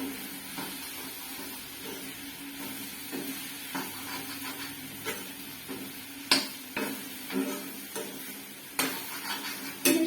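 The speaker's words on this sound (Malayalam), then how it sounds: "നല്ലപോലെ ഇളക്കിയെടുക്കാവേ." Brinjal and okra pieces stirred and sautéed in oil in a pan for a Kerala-style curry, soft continuous sizzle under irregular scraping strokes and sharper clinks of the spoon against the pan.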